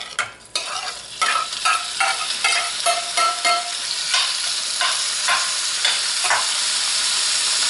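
Beef and broccoli stir fry being stirred in an old electric fry pan, a steady loud sizzle with repeated scraping and clacking strokes of the utensil, no talking.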